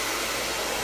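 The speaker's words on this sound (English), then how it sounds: "especially when you use a good hair dryer." A hair dryer blows steadily and loudly, a constant whooshing roar close by with no talking.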